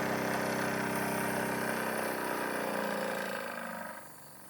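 Wilesco D21EL live steam engine with an inline oiler and smoking chimney running smoothly, a steady close-up mechanical whir and chuff that fades down near the end.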